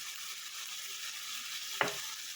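Prawns fry in a pan with a steady, moderate hiss and crackle, broken by a single sharp knock of a utensil near the end, close and without voices.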